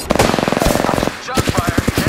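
Rapid automatic gunfire in the battle-royale game Apex Legends, loud close bursts of rattling shots that pause briefly and then resume.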